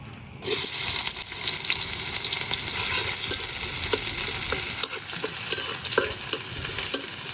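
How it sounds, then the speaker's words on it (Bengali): Onions frying lightly in oil and being stirred: after a brief quiet start, a loud, continuous close sizzle sets in, with spatula scrapes and taps scattered throughout. "পেঁয়াজটারে হালকা একটু ভাজে নিলাম"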